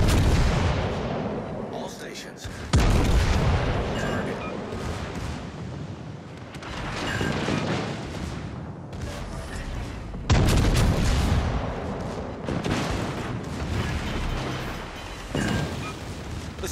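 Naval guns and explosions in a war video game, a series of heavy booming blasts at regular intervals, each followed by a rumbling decay, with voices talking between them.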